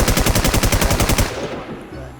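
A nail gun in the video game Warz fires a rapid, steady burst of about a dozen sharp, loud shots in quick succession, then stops, leaving a quieter tail of ambient game sound.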